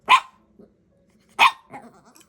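A dog gives two sharp barks about a second apart, close and loud, with a softer huff after the second.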